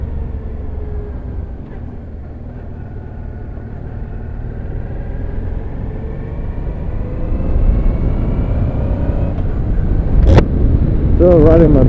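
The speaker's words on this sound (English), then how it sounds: "this wind is amazing" Steady wind roar and rumble while riding a motorbike, swelling louder over the clip, with a short voice and whistle-like tones near the end.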